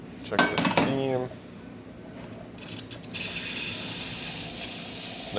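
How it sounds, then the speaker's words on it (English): An Isomac espresso machine's steam wand opens with a sharp clatter and then settles into a strong, steady hiss that continues to the end. A few brief clanks of metal sound near the start. "Nice strong steam."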